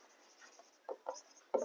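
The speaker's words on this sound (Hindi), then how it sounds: "तो यहां पे आप लिखेंगे" Faint marker or chalk strokes on a board during a chemistry lesson, a few short scratchy squiggles spaced apart against quiet room tone, with one firmer stroke at the end.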